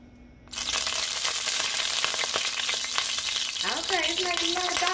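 Hot oil sizzles loudly in a stovetop pan, a steady crackling hiss that starts abruptly and continues alone, with a brief clink of utensils near the end.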